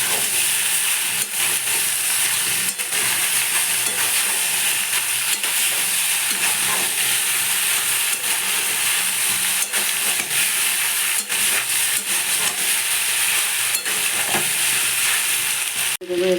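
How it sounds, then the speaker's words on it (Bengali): Vegetables frying in oil in a pan while being stirred, a steady loud sizzle and hiss running throughout with occasional scraping clicks of the utensil, close by and without talk. "সবজিটা কত সুন্দর ভাজা হয়ে গেছে লাল লাল করে"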